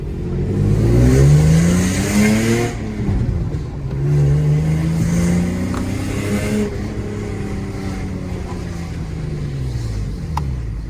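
Lexus IS300 with a manual gearbox and unlocked ECU accelerating hard in second gear, the engine note climbing steadily through the rev range, loud and close from inside the car, with a brief dip at a shift before rising again.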